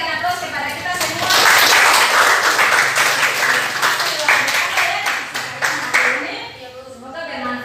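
Classroom applause for a student group's presentation, a dense burst of many hands clapping close by, steady for several seconds then thinning out near the end.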